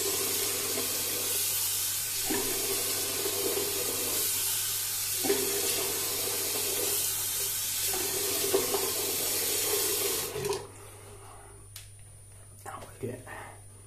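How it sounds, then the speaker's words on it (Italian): Running tap water splashing at a bathroom sink as a face is washed, a steady close rush for about ten seconds that then stops, leaving faint drips and handling sounds. "mi bagno il viso, dicevo"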